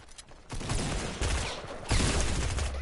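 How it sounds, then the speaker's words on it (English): Gunfire from other players in a video game arrives as bursts of rapid shots at moderate, somewhat distant level, two clear volleys in succession with no talk. "Nick, to our right, there's people shooting"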